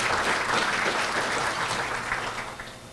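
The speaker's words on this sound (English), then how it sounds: "So let's give them a warm round of applause for showing up here today." A chamber of commerce luncheon crowd gives warm applause for former presidents and their spouses, a full round of clapping that holds steady and then begins to taper off toward the end.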